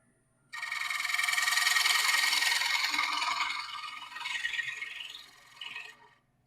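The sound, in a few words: freshly sharpened woodturning tool cutting wood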